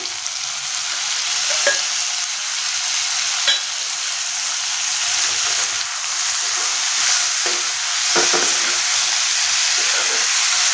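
Drumstick curry with freshly added tomatoes and salt is stirred in a hot pan, a continuous close sizzle with scraping spoon strokes scattered throughout and no voices.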